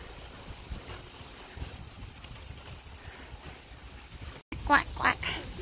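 Soft ambient noise of light rain outdoors runs for several seconds, then a few loud duck quacks burst out close by near the end.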